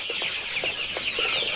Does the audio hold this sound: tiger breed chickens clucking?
yes